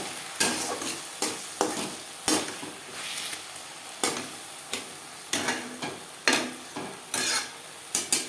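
Spice paste with crushed garlic stirred and frying in a pan for Bengali doi pabda, a spoon scraping in repeated sharp strokes over a soft, steady sizzle, close and fairly quiet with no talking.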